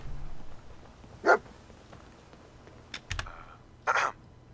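A dog in the video game Fallout 4 gives a few short, separate barks and yips over a low background hum, with faint clicks between them.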